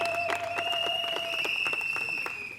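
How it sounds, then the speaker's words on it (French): Steady clapping from a crowd at a civil wedding ceremony fills the whole stretch, with a high electronic tone ringing over it and a brief fade at the end. "Nous pouvons l'accueillir sous vos applaudissements."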